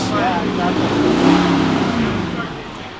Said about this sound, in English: we have this Mini here, which is making all the noise